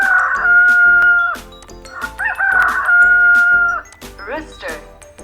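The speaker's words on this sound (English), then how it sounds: "rooster" A rooster crows loudly and close by, two long cock-a-doodle-doo calls followed by shorter clucking sounds, heard without any voice over it.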